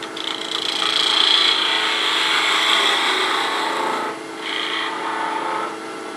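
A woodturning tool held almost like a skew slices wood spinning on a lathe while a multi-axis bird is turned, giving a loud, close, continuous hissing shear that dips briefly, then resumes more softly before fading.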